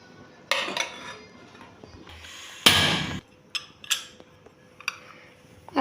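Metal clinks and scrapes against a cooking pan as a spoonful of desi ghee goes in, with a burst of sizzle or rattle in the middle and scattered light taps after, close and without speech.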